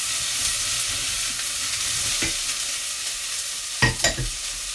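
Vegetables, including carrots, fry in a pan for chicken and vegetable soup with a steady, loud sizzle, broken by a couple of brief scraping stirs near the end.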